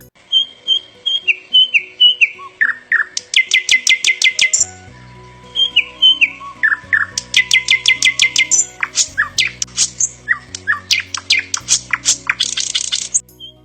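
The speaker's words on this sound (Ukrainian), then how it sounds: "Чи подобається вам, як щебече соловейку?" A nightingale sings loud and near in varied phrases of rapid trills, whistles and chirps, with soft music playing underneath.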